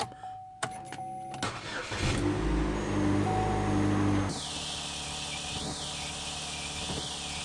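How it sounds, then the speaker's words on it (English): A 2006 Chevy HHR engine cranks and starts after an oil change and motor flush, surging loudly for a couple of seconds before settling into a steady, close idle with no talk. "start your car, let it run to normal operating temp"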